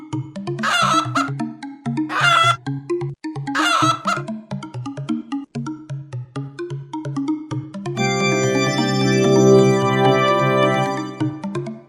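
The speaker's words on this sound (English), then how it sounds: "It's a chicken." A chicken clucks in a few short bursts over a steady backing tune, then a bright melodic jingle takes over toward the end.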